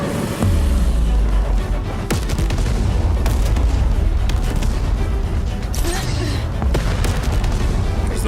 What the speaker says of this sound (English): Tear gas grenade.